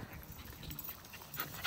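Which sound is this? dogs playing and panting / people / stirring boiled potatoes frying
dogs playing and panting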